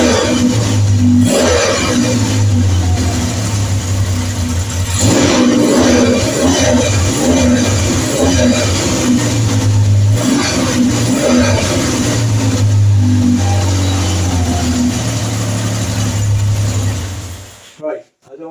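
A warmed-up Triumph Trident T160 motorcycle with the choke off runs steadily at a loud, even idle, with small rises in engine note, until it cuts off at the very end.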